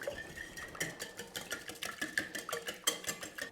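Five large eggs whisked in a mixing bowl, a quick, fairly quiet run of light clinking taps and swishes with a steady irregular rhythm, heard alone at close range.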